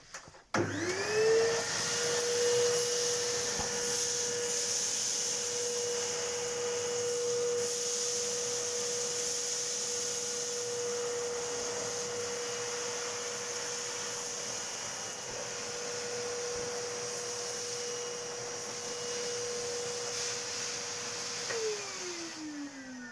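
Hitachi vacuum cleaner switched on and running steadily for about twenty seconds, a loud close whining drone with a constant high motor tone, then spinning down at the end; no talking.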